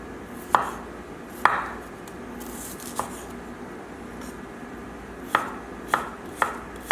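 A knife chops tomatoes on a cutting board for a salsa fresca, making about seven sharp, close chops in an irregular rhythm with short pauses, and no one talking.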